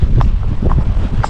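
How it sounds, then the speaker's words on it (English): Gale-force wind buffets the microphone during a ride down a lane on an ex-racehorse, a loud low roar that carries faint hoof clops through it. "the wind, you can't even call it wind, it's like gale force, it's just going to hit you so hard"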